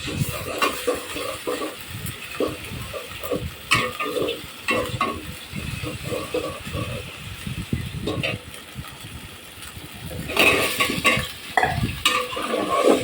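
Spices, potato and drumstick being sautéed and stirred in a pan: repeated scraping and clattering strokes with an underlying sizzle, irregular and fairly close, getting busier toward the end.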